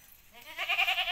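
A single goat bleat, a short nasal wavering cry that swells up midway, fairly close and moderately loud with no talk over it.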